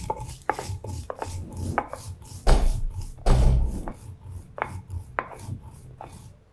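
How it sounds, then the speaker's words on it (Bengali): Fried chilies crushed on a shil-pata grinding stone: a series of irregular knocking and scraping strokes, close and fairly loud, with two heavier grinding pushes midway and no talking. "মরিচটা প্রথমে আমি একটু শিল দিয়ে বেটে নিচ্ছি"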